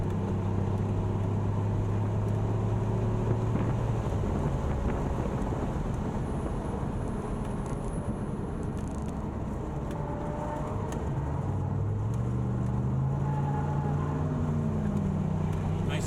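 A Pontiac Grand Prix GXP on the Gingerman race track, its engine a steady low drone with shifting tonal whine and wind rush, continuous throughout while voices talk over it.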